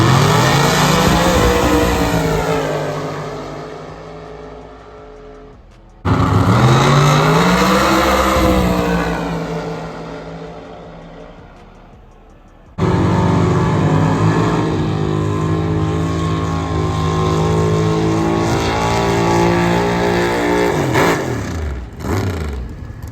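Turbocharged 532ci big-block race car with a 118mm turbo roars hard down a drag strip, loud and close, its engine note climbing through gear pulls with brief drops at each shift.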